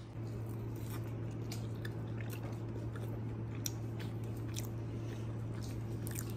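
Eating dal puri with pickle, heard as soft, close squishy chewing and bites in irregular bursts over a steady low hum.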